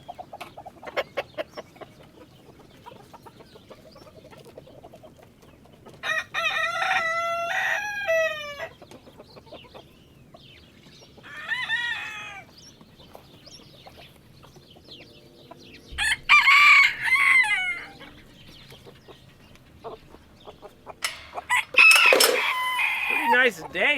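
Roosters crow in several loud bursts on a farm in January, with clucking fowl in between and some speech nearby.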